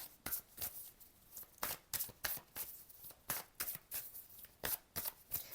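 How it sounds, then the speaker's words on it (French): Deck of playing cards shuffled repeatedly during a card reading, crisp riffling bursts in an irregular rhythm, close and fairly quiet, with no talking. "Je brasse, je brasse, je brasse."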